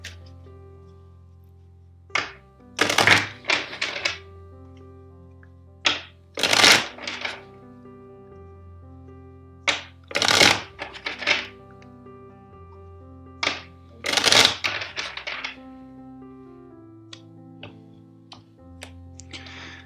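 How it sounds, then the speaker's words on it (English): Tarot cards are shuffled by hand at a quiet table, four crisp riffling bursts spaced a few seconds apart over a steady low background hum, with light taps between them and no talk. "First, I will shuffle four times."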